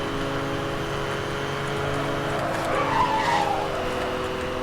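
A race car tears along at close to 300 km/h in the 2010 racing game Need for Speed: Hot Pursuit, a steady, loud engine roar with a tire squeal and skid rising briefly toward the end.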